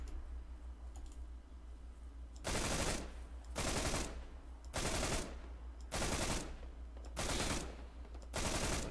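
Gunfire in the military shooter ArmA 3: five loud, close bursts of rapid automatic fire, each lasting about a second, evenly spaced and separated by quieter background ambience.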